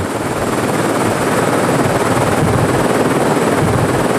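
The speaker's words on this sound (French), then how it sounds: "Ce jour-là, l'hélicoptère s'attaquait à la falaise." A helicopter working a cliff face on Lord Howe Island thunders continuously close by, its dense whirring rotor noise loud and steady throughout.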